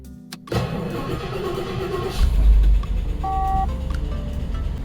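A 1986 Rolls-Royce engine cranks and catches close by, swelling into a brief low rev before settling into a steady idle, with a short electronic chime sounding over it.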